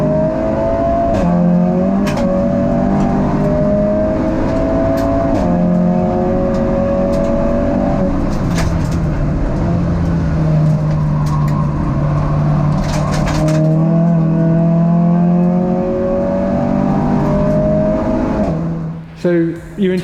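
A 470 hp SEAT Leon Cupra time attack race car drives loudly and close, its engine note rising and falling through revs and gear changes for the whole stretch, with a brief break near the end.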